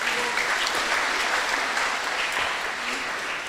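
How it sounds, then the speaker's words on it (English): Audience applause at a religious class comes as a continuous, dense wash of clapping, steady and fairly close throughout. "Kindly give him a big round of applause."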